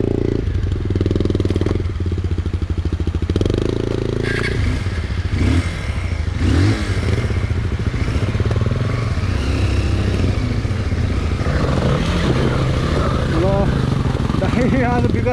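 An enduro motorcycle rides along a muddy river trail, its engine droning loud and close, rising and falling with throttle amid clatter and splashes, while riders talk over the noise.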